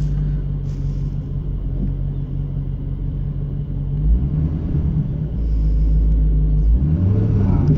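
A 1996 Chevrolet Corvette C4 with a manual gearbox idles in a low, steady rumble, then its engine note rises and surges as the clutch is worked, heard close with no talking.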